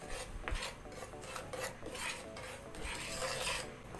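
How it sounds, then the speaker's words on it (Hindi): Semolina roasting over low to medium heat in a hot pan is scraped and stirred continuously, a dry, raspy rubbing of utensil against metal with a few louder knocks, close and unbroken, no voices. "पैन को मैंने गरम कर लिया है और इसमें मैं डाल रही हूँ आधा कप, मेरे पास ये सूजी है, इसको मैं इसमें थोड़ी देर के लिए भून लूँगी"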